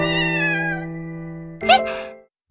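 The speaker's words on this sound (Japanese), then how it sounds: "小鳥、猫ちゃんいた？" Cat meowing in a video game event story: one long, clear, drawn-out meow fading gradually, then a shorter two-part chirpy meow, close and alone with no talk.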